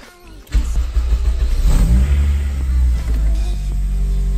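Acura RSX engine idling high, a steady loud low drone that starts abruptly after a brief quiet moment and holds with slight fluctuations.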